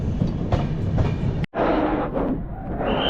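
Passenger train rolling along the rails on a long-distance trip, a steady loud rumble with rhythmic clatter from the car, briefly cut off for an instant midway before resuming.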